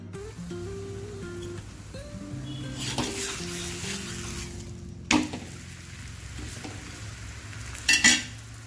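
Dhapate, a bottle gourd flatbread, roasts on a pan with a soft, steady sizzle, broken by a couple of sharp utensil clinks against the pan.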